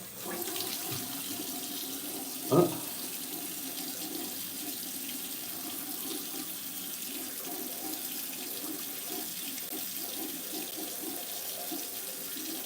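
Cold tap water runs steadily into a sink for a rinse after shaving, a constant close splashing rush with one brief knock partway through and no talk.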